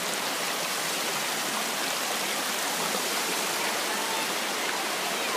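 A small waterfall and stream on a hike, rushing water as a loud, steady broadband roar with no breaks, close by and alone.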